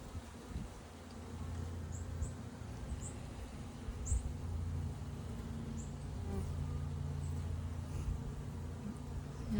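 Honey bees, workers and a few larger drones, buzz in a steady, close, droning hum at an open hive frame full of brood and honey, with no talking over it.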